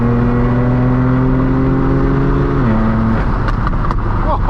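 A straight-piped BMW M4 F82 roars loudly at close range with a steady high-revving exhaust drone, then the revs drop and sharp crackles and pops burst out, with a Lamborghini nearby.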